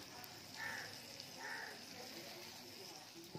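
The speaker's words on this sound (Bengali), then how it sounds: "পাউরুটিটা সেঁকে রেখেছিলাম, এবার ভাজবো।" Pre-toasted bread fried in a pan gives a faint, steady sizzling hiss with a few small pops near the end.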